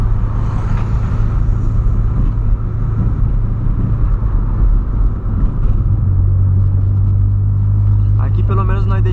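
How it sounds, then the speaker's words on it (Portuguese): A lowered VW Polo coasts in neutral down a potholed road, its low rumble steady and droning with road noise close inside the cabin, no engine revving; a brief rattly burst near the end. "Aí o carro vai descendo na banguela, filho."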